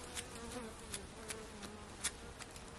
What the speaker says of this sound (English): Get the bees off of it as best you can.